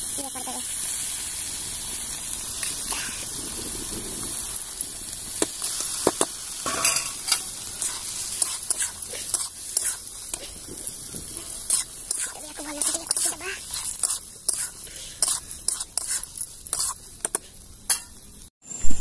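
Masala frying in a pan in a home kitchen, a loud sizzle with a spoon scraping and stirring in irregular strokes and small splashes of water being added, with a voice talking now and then.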